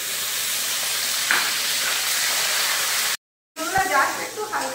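Salted, turmeric-coated prawns sizzle in hot frying oil, a steady close hiss that breaks for a moment, then returns with crackling spatter. A voice speaks in the background.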